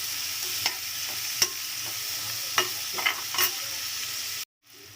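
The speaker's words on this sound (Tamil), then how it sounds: "இப்போ இதை நல்லா கொஞ்சம் மிக்ஸ் பண்ணி விடுங்க" Chopped onions sizzle steadily in hot oil as a spoon stirs and mixes them, with several sharp scraping clicks against the pan before the sound cuts off abruptly near the end.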